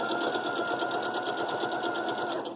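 Sewing machine fitted with a 1/4 inch foot stitching a quilt block: a close, steady, fast-pulsing whir of needle strokes running unbroken for a few seconds.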